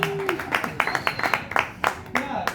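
A comedy club crowd at a stand-up set gives a short round of clapping, individual claps distinct and fairly close, with a comedian's voice speaking over them.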